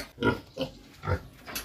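A sow on a pig farm squeals in agitated, repeated bursts, four loud harsh cries in quick succession at close range, with no talking.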